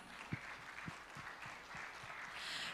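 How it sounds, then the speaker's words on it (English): Faint, distant applause from a conference audience for panelists, a soft continuous patter of clapping with a few low thumps, quiet and somewhat muffled throughout. "let us give them a big round of applause."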